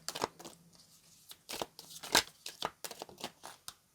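Close, quiet papery riffling and slapping of tarot cards being shuffled in irregular bursts, with soft crinkles between them.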